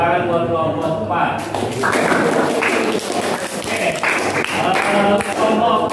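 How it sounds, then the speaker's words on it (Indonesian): A group of students claps for the fourth discussion group after its classroom presentation, a dense steady patter of applause with some tapping and a few voices mixed in throughout. "Tepuk tangan buat kelompok 4."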